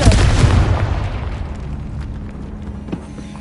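A Confringo spell blast in Hogwarts Legacy booms loudly inside a tomb, a heavy explosion with a crackling rumble that decays over a few seconds, followed by a smaller pop near the end.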